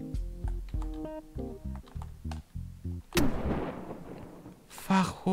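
An umbrella parachute bursts in the video game Totally Reliable Delivery Service with a sudden loud blast, following a run of rhythmic game music tones and trailing into a noisy burst and a second crash near the end.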